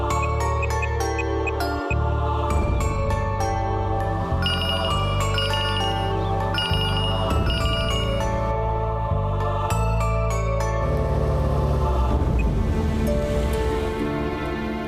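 After a call is placed, a melodic electronic ringtone plays loudly and steadily, its repeating chiming tones filling the whole stretch with no talk.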